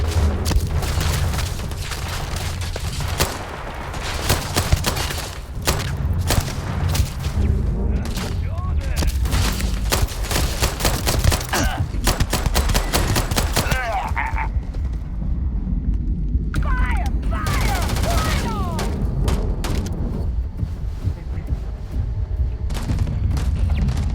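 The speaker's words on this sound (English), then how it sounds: "Laser weapons." Laser weapons in the game Starfield fire in dense, rapid volleys of sharp blasts and booms, loud and near, continuing almost without pause under brief shouts and game noise.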